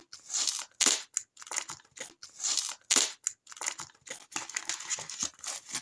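Paper being torn along a large perforation to open a handmade paper surprise collection pack, heard as repeated close crinkling and ripping bursts with short pauses, no talk.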